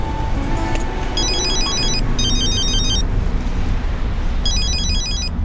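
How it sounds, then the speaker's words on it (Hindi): A telephone ringing indoors in a drama scene, bursts of electronic trilling ring in a repeating pattern, two close together then another after a pause, over a low steady background hum. "तुम्हारा फोन बज रहा है।"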